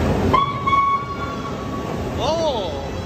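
An American train horn in Chicago sounds a sustained tone for about a second, followed by a short wavering squeal, over steady background rumble and noise.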